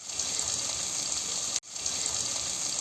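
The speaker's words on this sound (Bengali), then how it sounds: "এগুলো একটু নেড়ে দিব, না হলে মশলা নিচে লেগে যাবে।" Onion, garlic and ginger paste sizzles in a hot pan while being stirred, giving a steady bright hiss throughout with a brief dip partway, close and unaccompanied by talk.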